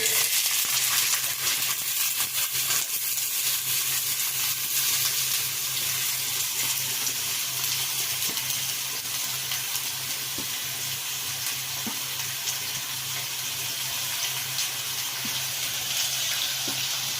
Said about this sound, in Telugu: ఐదు స్పూన్లు నూనె పోసుకున్నామండి ఉల్లిపాయలు వేసుకుందామండి